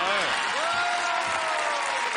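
A television studio audience applauds steadily at a French comedy show, with a loud, continuous wash of clapping and a high whistle-like tone rising through it.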